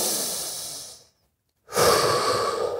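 Deep inhale through the nose and mouth while setting up for a deadlift, a long airy breath close up, broken by a brief silent pause before another strong breath follows.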